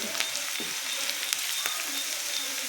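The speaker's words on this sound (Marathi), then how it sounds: "आता आपण त्याच्यामध्ये 1 चमचा हळद टाकून घेऊया, लहान चमचा, तेही भाजून घेऊया" Turmeric roasting in a pan with garlic and chilli gives a steady close sizzle and crackle of frying, with a few sharp ticks of stirring and no voices.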